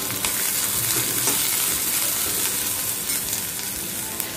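Peanuts frying crisp in hot oil in a pan, a steady dense sizzle with faint crackles running evenly throughout.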